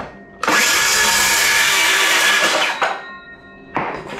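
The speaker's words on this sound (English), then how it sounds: "show you how well the circular saw cuts with the blade that is already installed" A DeWalt DCS391 cordless circular saw cuts through material with a loud, steady high-pitched whine lasting about two seconds, then winds down, followed by a brief restart of the blade near the end.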